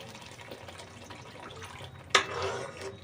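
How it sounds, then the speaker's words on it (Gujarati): Water is poured into a curry gravy for an egg curry, a sudden splash and brief pouring gurgle after quiet kitchen background. "અને હવે આપણે એમાં થોડું પાણી એડ કરી દઈશું."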